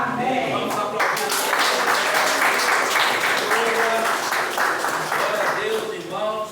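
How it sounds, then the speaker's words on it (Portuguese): A church congregation applauds in a dense, continuous burst of clapping, with a voice speaking and calling out over it at the start and again near the end. "Vamos aplaudir."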